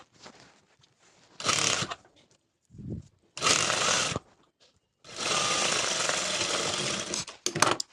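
A sewing machine stitches fabric in several separate bursts of rapid mechanical whirring, close by, with short pauses in between and the longest run near the end.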